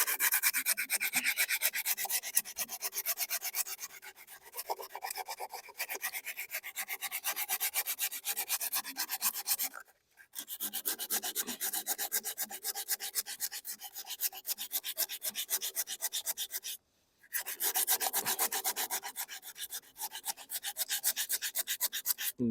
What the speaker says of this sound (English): Even this heavy duty sandpaper is no match for this scale.